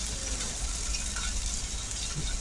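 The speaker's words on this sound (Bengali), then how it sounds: "জিরা বাটা দিয়ে ভেজে নিব" Ginger, onion, garlic and cumin pastes frying in hot oil in a wok, a steady close hiss and sizzle without pause, fairly quiet, with no talking.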